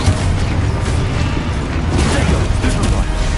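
A Confringo blasting spell explodes in the Hogwarts Legacy video game: loud, dense booming and crackling game effects that roll on without a break.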